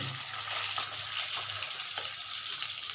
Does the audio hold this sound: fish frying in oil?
yes